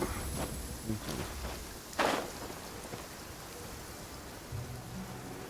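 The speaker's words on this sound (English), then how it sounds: "Hopefully it stays raining." Rain pours steadily in the video game Genshin Impact, a continuous hiss with scattered louder drops and one sharp burst, lasting throughout at moderate level.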